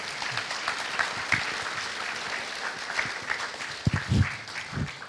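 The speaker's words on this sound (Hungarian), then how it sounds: "Tapsoljuk meg." Sustained applause from a studio audience for a quiz winner fills the clip, a dense crackle of many hands clapping at moderate volume with a few louder claps near the end.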